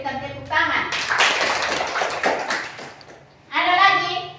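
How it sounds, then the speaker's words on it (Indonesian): Students in a classroom clap their hands together in a burst of lively applause. Children's voices come just before and right after the clapping. "Berikan tepuk tangan."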